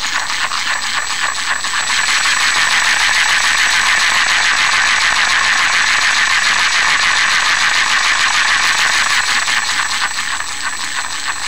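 Electric hub motor mounted inside a tractor wheel, running in reverse at high speed: a steady, loud mechanical whir with a dense ratcheting, gear-like rattle that holds unbroken throughout.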